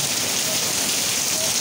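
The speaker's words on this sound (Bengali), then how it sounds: "দেখো কত বৃষ্টি হচ্ছে।" Heavy rain pouring down outside a roadside shop in Guwahati, a dense, loud, continuous wash of falling water close by with no breaks.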